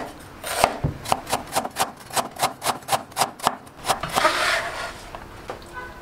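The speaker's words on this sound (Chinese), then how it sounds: "切成薄片" A knife slices purple ginger into thin slices on a board, making a quick, even run of about a dozen crisp, close chopping taps that ends in a softer scraping rustle.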